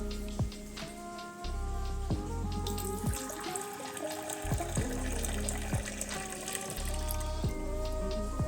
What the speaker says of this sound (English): get some water for your shot glass.